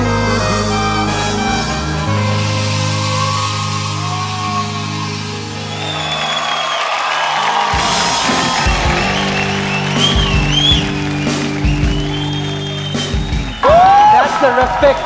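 A studio audience at a televised singing competition performance day cheers and applauds after a song, as music fades and a host speaks over the rising claps near the end.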